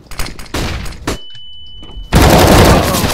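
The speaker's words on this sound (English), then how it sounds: "Deploying flashbang." A flashbang grenade in Counter-Strike (CSGO) on the Inferno map goes off after a sudden drop into muffled near-silence with a thin high ringing tone, then a loud, sustained blast of noise surges back in. Earlier, loud gunfire-like bursts are heard.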